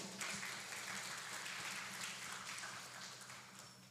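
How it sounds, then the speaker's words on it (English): Steady audience applause at an Indonesian PGRI English speech competition, a dense continuous wash of many hands that holds level and eases slightly toward the end, heard from a moderate distance with no voices over it. "Give applause to PGRI."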